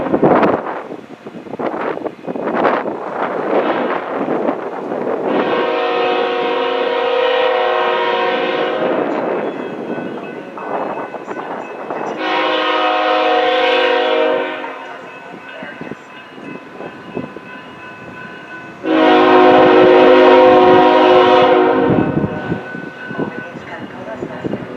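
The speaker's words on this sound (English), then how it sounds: "there was a northbound OUC coal train rolling up the A line out of the Carter sub" A northbound OUC coal train rolls up the A line out of the Carter sub, sounding three long, loud horn blasts over a steady rail rumble with some wind buffeting the microphone.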